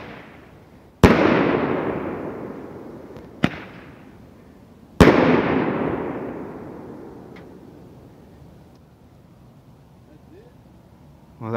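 A handheld firework candle lets off a few loud shots with long, crackling decays, along with a sharper, shorter pop between them, and then fades to quiet.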